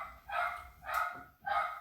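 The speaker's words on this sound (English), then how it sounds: "Hear the dog barking." A dog barks three times in quick succession, indoors at home, each bark short and fairly close, with brief quiet gaps between them.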